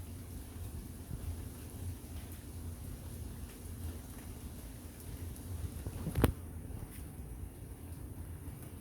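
Steady outdoor rain falls with fine particles drifting down, a soft continuous hiss with one sharp crackling burst near the end; no talking.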